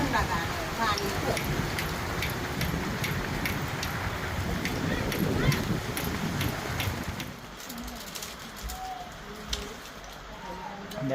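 Steady rain pours down in strong wind, a dense continuous hiss over a village, with pigeons cooing and someone talking over it.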